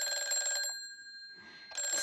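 A telephone bell rings in a recreated 1953 radio drama, two loud, bright electric rings separated by a brief pause, with no voices heard.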